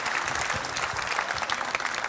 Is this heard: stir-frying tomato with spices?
no